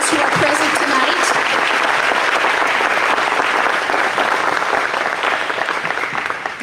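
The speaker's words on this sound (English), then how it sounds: "Let's hear a round of applause for our state fair representatives who are present tonight" An audience at a Wayne County 4-H 2021 Style Revue and Ohio State Fair awards program applauds state fair representatives with dense, steady clapping that fills the whole stretch and eases slightly near the end.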